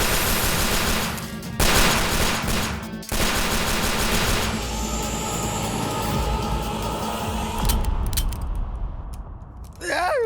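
Dense bursts of gunfire fired at a shape-shifting serpent, loud and rapid for several seconds, then giving way to a rumbling, sustained roar with fading crackles and a swelling tone at the end.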